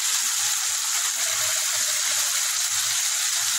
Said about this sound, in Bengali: অল্প একটু জল দিলাম যাতে মশলাটা ধরে না যায়।